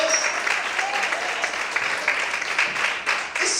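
A church congregation claps in a loud, sustained burst of applause that fills the room, with scattered voices and cheers mixed in before it tapers near the end.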